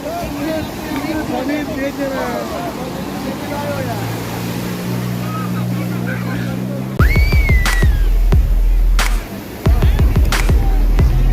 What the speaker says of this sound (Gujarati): સ્પીડ બાઇકને દરિયાની અંદર લોડ કરે છે